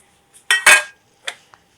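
A konafa pan is flipped onto a plate, giving a couple of sharp metallic clanks close by, followed by a lighter clink and a tiny tap, with no talk.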